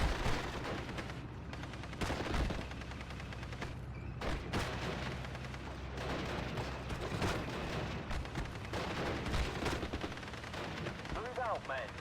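Bren gun group firing in Steel Division: Normandy 44 during a Pegasus Bridge 3v3 battle, with dense sustained machine-gun bursts and scattered explosions rolling continuously at close range under a constant wash of battlefield noise.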